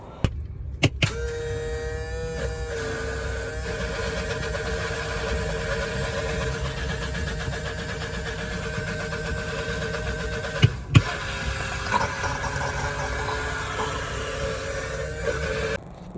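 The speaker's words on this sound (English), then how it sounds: "So I've managed to get the pump working." A boat's automatic bilge pump runs beside the River Ouse, giving a steady, close motor whine with a constant tone for the whole stretch, broken only by a few sharp knocks near the start and midway. No one speaks.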